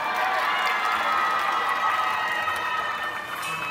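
A concert crowd at the Ayutthaya City Park Auto Show cheers and applauds loudly for a new band, a dense, steady roar of voices and clapping that fades slightly at the end.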